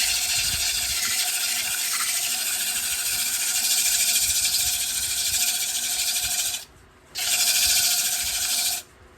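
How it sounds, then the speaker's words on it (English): Steady, harsh rasping of sandpaper on a turned black cherry wooden bowl, continuous and close, with a brief pause before the scratching resumes and stops again. "it's just going to be a whole bunch of sanding, inside and outside"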